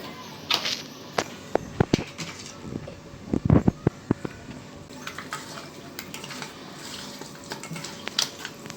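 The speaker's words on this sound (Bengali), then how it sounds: "হলুদ মরিচ লবণ দিয়ে মাছ মাখাই নিব" Fish pieces are rubbed with turmeric, chili and salt in a metal dish in a village kitchen, with scattered clinks and knocks of the pot among soft mixing and handling noises throughout.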